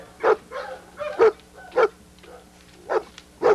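Young dogs around eight months old barking close by, a run of five sharp, evenly spaced barks with brief pauses between them.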